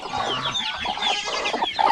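Chickens on a small farm raising turkey chicks cluck and chatter close by in quick, overlapping bursts, with a few higher peeping notes mixed in and no human voices.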